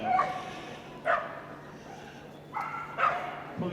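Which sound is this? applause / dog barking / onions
dog barking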